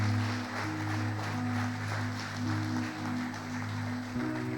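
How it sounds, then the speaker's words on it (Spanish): A church congregation claps for the Lord during a worship service, with even, sustained clapping layered over a droning organ or keyboard chord that holds underneath for the whole stretch. "Dale un fuerte aplauso al Señor."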